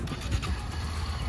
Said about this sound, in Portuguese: mostra que a moto tá ligando